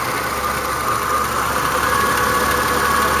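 A Chrysler Sebring Limited sedan with a 2.7-litre dual overhead cam six-cylinder engine idles steadily at close range, a constant even hum with no talk.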